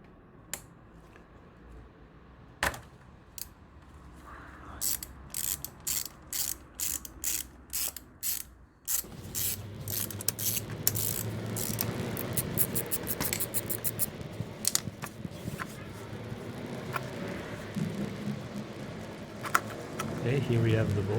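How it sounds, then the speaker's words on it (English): Ratchet with a 12mm socket unscrewing the transmission oil bolt on a scooter: a close, rapid series of sharp clicking ratchet strokes, then quicker continuous ticking as the bolt loosens, with a voice talking throughout. "we have a ratchet and a 12mm socket, so let's do and unscrew the bolt"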